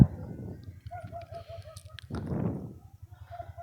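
A hen clucking softly close by, low rhythmic throaty clucks with a brief louder burst midway and faint higher calls in the background.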